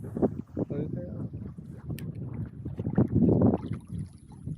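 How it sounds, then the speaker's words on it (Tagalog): Gusty wind buffets the microphone with a low, rumbling roar while people talk nearby over the sound of water and a boat during shallow-water light-casting fishing. "Mahangin kasi."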